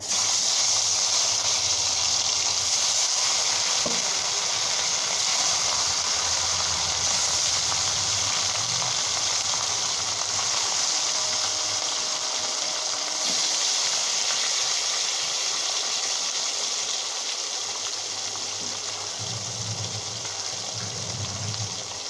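Fish frying in very hot oil in a home kitchen, a steady broad sizzle and hiss that holds continuously with faint bubbling pops underneath, close and fairly loud, no talking.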